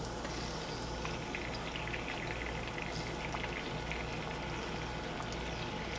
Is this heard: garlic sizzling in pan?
yes